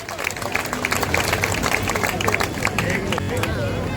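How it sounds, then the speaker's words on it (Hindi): Dense applause from a large crowd at an outdoor political rally in Matiala, Delhi, a steady wash of many hands clapping that holds evenly for the whole stretch with a babble of voices mixed in. "जब तक बहन जी आपकी ताली जोरदार बजती रहनी चाहिए।"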